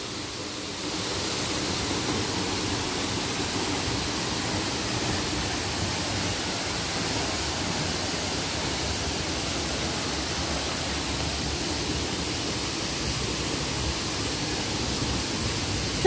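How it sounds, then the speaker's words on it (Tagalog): Katibawasan Falls, a tall waterfall on Camiguin Island, pours in a steady, loud broadband roar heard up close, constant throughout with no talking. "Katibawasan Falls."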